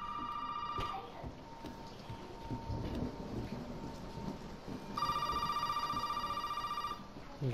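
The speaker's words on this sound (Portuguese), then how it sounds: "O telefone tá tocando." An old telephone bell rings in Resident Evil 7, first as one ring, then a longer ring a few seconds later, with rain pattering steadily in the background throughout.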